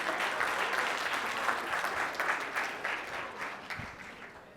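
Audience at a cybersecurity keynote breaks into dense, steady applause that fills the room, holding strong before slowly tapering toward the end.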